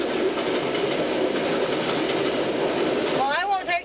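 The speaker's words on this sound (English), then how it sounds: "It's the first time we ever had to stop for a train here." A freight train, likely hauling coal, passes a stopped car on the Glen Highway in Alaska, a steady loud rumble and clatter of rail cars throughout, with a voice speaking briefly at the end.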